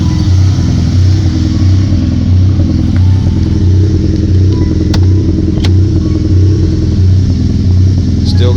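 A car engine idling steadily after jumper cables are disconnected, a loud continuous low rumble with a faint periodic pulse and a couple of sharp clicks, no talk over it.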